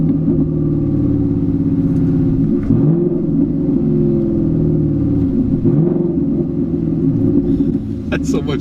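A 2019 Ford Mustang GT engine revving on its own through automatic rev matching, a steady loud rumble with harmonic blips rising and falling as it shifts, continuing under the cabin hum.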